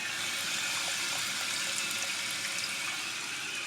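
A toilet tank refills after the water is turned back on during a repair of a leaking toilet, giving a steady broadband hiss and rush of running water that holds at an even level throughout, with no talking.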